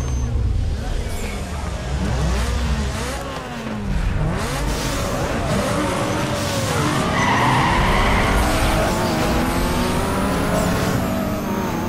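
Small car engine racing in Need for Speed Underground 2, loud revving with sweeping pitch rises and falls plus tyre skidding, and a person talking over the game sound.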